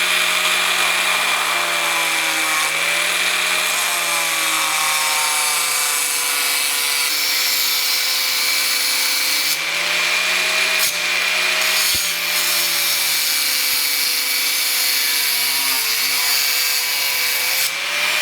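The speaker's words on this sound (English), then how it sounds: "I'm going to take the angle grinder and I'm going to try to make a slice through the toe." An angle grinder slices through the steel toe cap of a work shoe, a loud continuous whining grind with shifting pitch and a few sharp scraping bursts, close and without speech.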